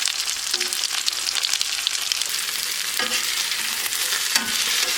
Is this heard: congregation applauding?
no